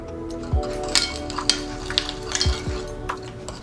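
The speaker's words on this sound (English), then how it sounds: "So I'm going to mix everything." Tempura batter of flour and liquid being stirred in a bowl, with a series of sharp clinks of utensil against the bowl over a steady background hum, several taps spaced irregularly.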